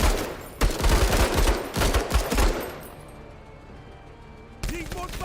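Rapid bursts of heavy automatic gunfire in a video game crackle up close, then fade into a quieter lull before another loud burst cuts in.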